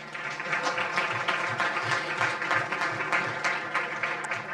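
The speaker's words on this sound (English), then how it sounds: "have a huge round of applause for Dr. Mukesh Gupta" Audience applause for the moderator of a panel on IT for sustainability in agriculture and healthcare, a steady moderate clapping with faint rhythmic pulses, somewhat distant and continuous.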